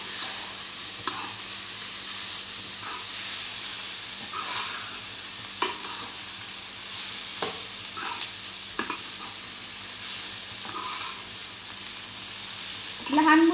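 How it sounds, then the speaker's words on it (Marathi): Red cabbage sautés over a low gas flame with a steady soft sizzle, broken by scattered stirring scrapes and taps of a spoon against the pan, and a louder clatter near the end. "आता स्लो गॅसवर एकदम छान असं व्यवस्थित परतून घ्यायचं"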